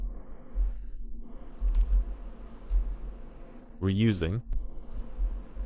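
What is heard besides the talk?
typing a material name on a computer keyboard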